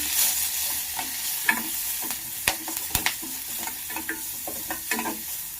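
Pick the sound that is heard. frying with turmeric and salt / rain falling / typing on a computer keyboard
frying with turmeric and salt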